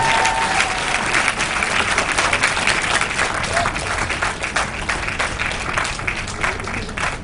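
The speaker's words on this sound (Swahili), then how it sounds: "Let's give them a hand. Wapige makofi." Steady applause from a training audience in Dar es Salaam, a dense wash of clapping lasting several seconds with faint voices underneath.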